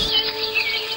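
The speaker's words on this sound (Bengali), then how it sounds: "পাখির কলরব" Birds chirping outdoors, several quick high tweets and short calls scattered over a quiet background, fairly clear and close, with no one speaking.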